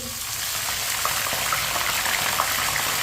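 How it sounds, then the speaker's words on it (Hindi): Steady bubbling and sizzling as water hits lightly browned onions in a hot pan, a continuous liquid hiss with faint crackles throughout, no voices. "अब इसमें थोड़ा सा पानी डाल लेंगे"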